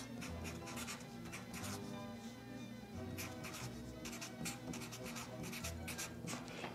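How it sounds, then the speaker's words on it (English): A pen scratches name and date onto a label at a clay sculpting workspace, a close run of quick scribbling strokes in short clusters over a steady low background hum. "The first thing we're gonna do is write our name and date on"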